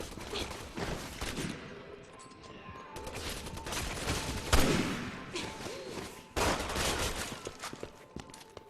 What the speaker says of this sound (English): Especially not with all these guys shooting at you.